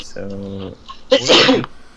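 A single loud, close sneeze bursts out during a tabletop role-playing game session, just after a brief spoken word.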